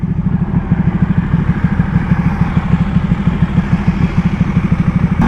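Ducati Panigale 1199S motorcycle engine running, a loud, close, steady low throbbing with a fast rhythmic pulse, like idling or light revving, heard alone throughout.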